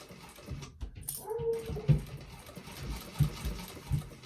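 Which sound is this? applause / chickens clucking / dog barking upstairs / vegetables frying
dog barking upstairs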